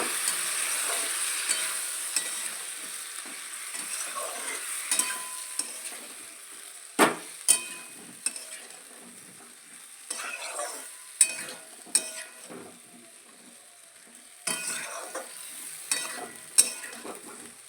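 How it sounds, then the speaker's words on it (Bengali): Masala is stirred into a sizzling rui fish curry: a steady frying hiss with repeated scraping and clinking strokes of a spoon against the pan, close and irregular. "ওই মশলাটা দিয়ে দেবো। মশলাটা দিয়ে নাড়বো।"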